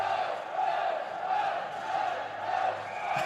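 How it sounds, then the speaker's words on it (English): A hockey crowd at a men's Division II college game, Illinois against Maryville, roars and chants in loud rhythmic swells that rise and fall about every half second across a big arena. "As Jack Harrison's getting the crowd going"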